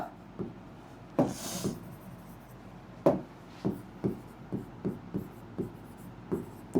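A teacher writes a word's meaning by hand during an English lesson, giving a run of short, scratchy strokes in an irregular rhythm, close and moderately loud, with no talking.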